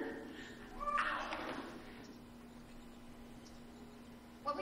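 A cat meows in the horror adventure game Phantasmagoria, one short cry close by against a faint steady hum, with a brief sharp sound at the very end.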